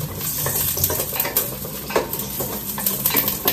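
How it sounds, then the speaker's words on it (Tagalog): Chicken is sautéed in a pan, with a close, steady sizzle of frying under repeated clinks and scrapes of a utensil stirring against the metal, and no voices. "gisahin ko muna yung ating chicken, guys. Gusto ko yung parang ginisa"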